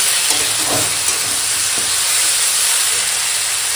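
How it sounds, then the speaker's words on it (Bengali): Shrimp seasoned with salt and turmeric sizzle steadily in a hot pan, a loud, close, continuous hiss of frying with a few faint stirring knocks. "লবণ হলুদ দিয়ে মাছে রাখা চিংড়ি মাছ দিয়ে দিলাম"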